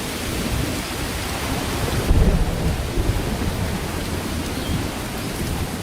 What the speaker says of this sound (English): But July arrives, and with it, torrential rain.